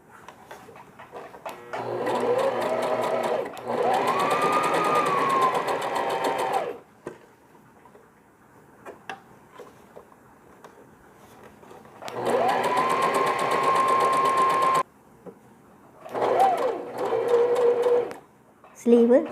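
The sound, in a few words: sewing machine zigzag stitching a smocking dress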